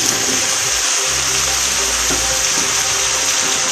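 Potatoes go into a hot pan for a home-style Bengali vegetable curry, giving a steady, loud hiss of frying with a low rumble underneath. It runs continuously throughout, with no voices.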